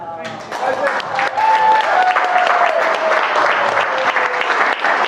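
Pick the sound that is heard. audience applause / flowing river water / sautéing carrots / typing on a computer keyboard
audience applause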